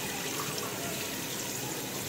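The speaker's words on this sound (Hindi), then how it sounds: "अभी हम लोग ने इसमें 8 गिलास पानी डाल दिए" Water gushing into a pot to boil rice for Hyderabadi chicken dum biryani, a steady, loud, continuous pour close to the microphone.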